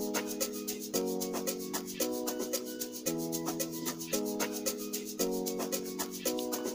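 Chords programmed in FL Studio Mobile for an amapiano-style kavalungu beat repeat in steady sustained stabs, changing roughly every second over a crisp ticking hi-hat pattern, with no voice.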